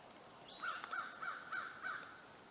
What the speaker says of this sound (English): Crows are telling on me.